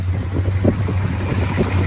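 A muscle car engine fitted with headers idling steadily with a low, throaty rumble, close by, with some wind buffeting the microphone.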